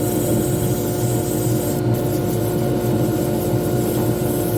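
Sandpaper rubs steadily against a wooden pen blank spinning on a lathe, a dense continuous rasp over the machine's constant hum, close and unbroken for the whole stretch.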